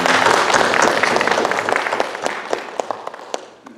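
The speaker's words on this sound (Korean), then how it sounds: "우리 함께 환영하고 축복하는 박수를 했으면 좋겠습니다" A church congregation applauds to welcome newcomers: thick clapping at first, then thinning into scattered individual claps as it dies away.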